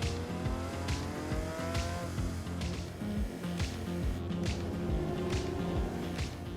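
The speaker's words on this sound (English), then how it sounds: "The engine chunters and rattles slightly at idle." A 2024 Porsche 911 GT3 Touring engine runs with a steady, close, throaty drone, punctuated by regular ticking and rattling transients that repeat through the whole stretch, with no talk.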